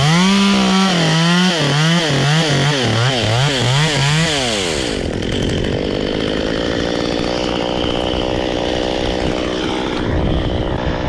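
A Husqvarna T540XP Mark III chainsaw revs in rising and falling pulses, then settles into a loud steady drone as it cuts, close by with no voices.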